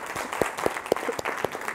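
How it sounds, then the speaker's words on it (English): An audience at a philosophy conference gives applause, moderately loud and close, with several sharp individual claps standing out at a fairly regular pace. "I want to ask everyone to join me in giving a round of applause to Jesse Lee Miller."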